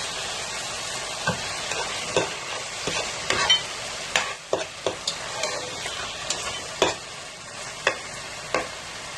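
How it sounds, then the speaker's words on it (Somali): Chopped chicken sizzles steadily in a pan with onion and garlic. Repeated scraping stirs break through the frying, close up. "waxaan ku shubanaynaa chicken-keena soo jarjarnay"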